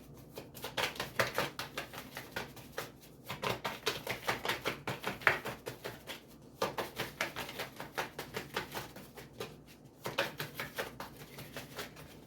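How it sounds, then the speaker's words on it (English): Tarot cards are shuffled in repeated soft, crisp riffles that come in bursts, each a rapid patter of taps, with brief pauses between rounds and no talking. "Two more shuffles and I'll pull from the top."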